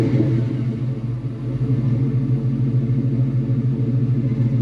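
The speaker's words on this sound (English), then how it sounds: "Nice deep sounding rumble." A 1999 Ford Mustang GT with a Stainless Works retro 3-inch exhaust idles with a deep, steady rumble, loud and close, holding an even low throb throughout with no talk over it.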